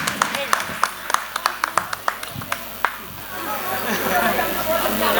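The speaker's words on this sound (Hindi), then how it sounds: "जोरदार तालियों के साथ" Scattered, uneven hand claps from a small audience after a Punjabi dance performance at a Deep Utsav festival event, fading into a low murmur of crowd chatter and background noise.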